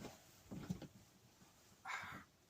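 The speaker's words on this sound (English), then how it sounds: "I've got my little sausage, miniature Dachshund sausage dog." A 12-week-old miniature Dachshund puppy makes a few faint, short yips and snuffly whimpers, close by and quiet, with a brief breathy burst near the end.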